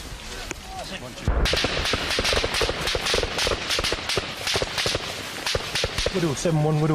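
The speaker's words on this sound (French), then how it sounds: "Tir de roquette." Rocket fire during combat with the Taliban in Afghanistan: a dense, loud barrage of sharp bangs and cracks runs continuously, with voices heard among the shots.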